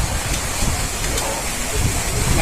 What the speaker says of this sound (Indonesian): Cuaca ekstrim. Badai.